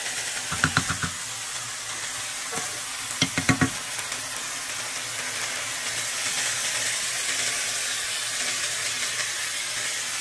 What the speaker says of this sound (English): we are going to saute our rice a little bit